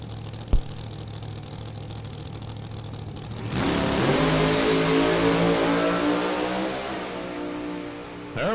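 A 1967 blown Shelby drag racing car fires off on a run. After a few seconds of low background noise, a loud, harsh engine roar erupts and climbs steadily in pitch, then eases slightly near the end.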